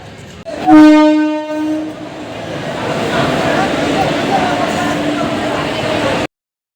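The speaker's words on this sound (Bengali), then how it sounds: "এটা হচ্ছে প্রতাপ এক্সপ্রেস ট্রেন" Pratap Express passenger train at a station gives a loud, sustained horn blast, then a steady rolling rumble of the carriages continues for several seconds before stopping abruptly.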